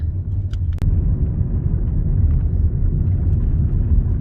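Car rolling along a rural country road outside Tromsø in northern Norway, with a steady low engine and tyre rumble throughout and a brief click near the start.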